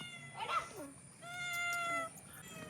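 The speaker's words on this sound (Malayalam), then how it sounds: "പൂച്ചനെ പിടിക്കാൻ വേണ്ടിയിട്ട് പോകുന്നു." A cat meows several times nearby: first a short rising cry, then a longer drawn-out wail. The calls are clear against a quiet room with no talk.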